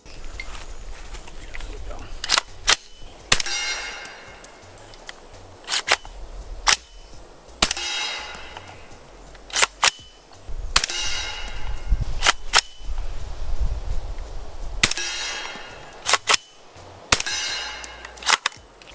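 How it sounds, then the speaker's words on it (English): Subsonic 300 Blackout rounds fired through a suppressed rifle crack as a dozen or so sharp, quiet pops spaced a second or two apart, some followed by metallic clinks of the action, with a voice talking between shots. "Shooting 300 blackout subsonics through this can is pretty dope."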